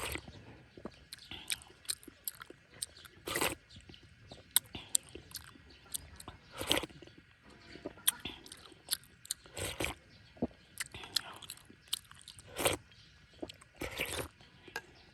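Someone eats rice tofu in a sour soup, with moist chewing and soft bites that repeat steadily up close. Sharper squishy and crunchy bursts stand out at intervals, and no one talks.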